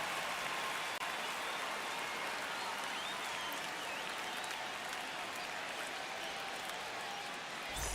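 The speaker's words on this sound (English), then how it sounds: "now, the crowd is amped up, ready to get this season underway" Stadium crowd in the MLB The Show 25 baseball video game, Cubs versus Dodgers, roaring and applauding as the season gets underway, a dense, continuous wash of cheering that holds steady throughout without a clear voice on top.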